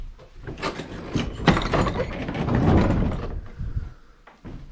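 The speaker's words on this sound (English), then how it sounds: "open up the door so we can see" The wooden door of a mountain hut at Lake Belcher, Mount Field, is pulled open with a rough scraping and creaking sweep that swells and then fades, heard up close.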